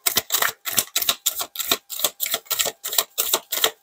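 A deck of cards shuffled in a steady rhythm, about a dozen evenly spaced bursts of papery riffling slaps, close and fairly loud, with some cards flying loose, no voices.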